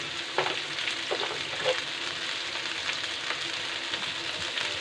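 Pasta sauce ingredients sautéing on a high flame in a pan, a continuous gentle sizzle with a few clinks and scrapes of stirring, fairly quiet and close.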